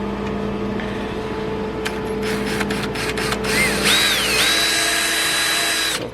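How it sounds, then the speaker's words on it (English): Power drill boring with a blunt bit during prep work on an RB25 R33 Nissan Skyline: a steady mechanical whir with loud bursts of grinding and a rising, squealing whine as the bit bites, close and alone. "So of course, I picked the bluntest drill bit in there."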